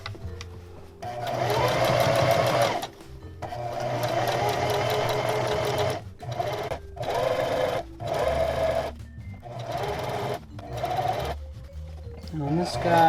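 Sewing machine stitching a hem on raw selvage denim jeans, running in steady loud bursts of rapid stitching separated by brief pauses, close up.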